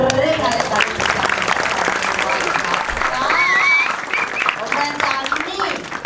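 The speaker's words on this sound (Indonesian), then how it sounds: "tepuk tangannya dong" An audience claps and cheers loudly through most of the stretch at a lively comedic stage show, the applause fading slightly toward the end, with a voice calling out above it.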